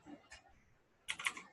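Short bursts of computer keyboard typing, faint and close, a few quick keystrokes followed by a pause and then a denser cluster of clicks, with no talking.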